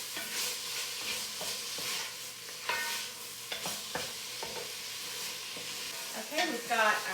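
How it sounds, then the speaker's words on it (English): Vegetables fry in a pan for sloppy joes with a constant sizzle, while a spoon stirs them in scraping, knocking strokes that come at irregular intervals and stay close and clear. "start stirring this around."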